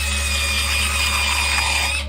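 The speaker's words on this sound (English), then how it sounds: "They drill into your tooth" A dental drill whines at a steady high pitch while boring into a tooth during a root canal, holding level over a low hum and then cutting off.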